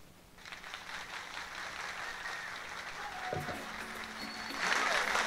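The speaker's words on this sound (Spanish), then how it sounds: "Aplauso para Chermín." A crowd applauds for a baseball player at a Chicago White Sox event, a steady wash of clapping that swells louder toward the end.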